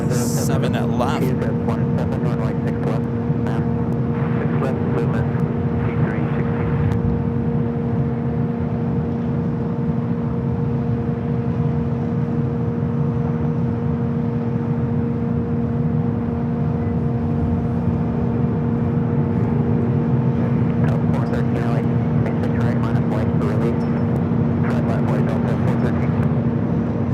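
A Delta Boeing 767 jet rolling down runway 7 left at Los Angeles airport for takeoff, a steady broad roar with a low engine drone and hum, loud and sustained throughout, with sharp clicks and crackles at the start and near the end.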